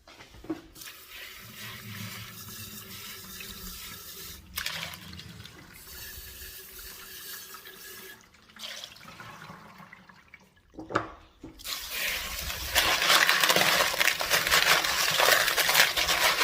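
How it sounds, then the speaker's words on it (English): Running water from a tap splashes steadily over a batch of tumbled rocks, including red jasper, fresh from a multi-hour wash cycle in a Lot-o tumbler, with brief pauses and a louder, fuller gush toward the end. "So we're ready to rinse them off, see how they look"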